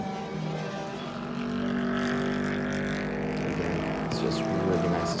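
GT race cars at Circuit of the Americas roar past on the track, heard from up on a spectator tower: a sustained engine drone that swells louder midway, with a sharp passing burst near the end.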